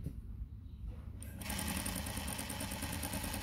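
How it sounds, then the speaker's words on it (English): A Juki DDL-5550N industrial sewing machine starts up after a quiet moment and then runs steadily, a loud, close, continuous rapid stitching hum with fast mechanical rhythm. "start sewing."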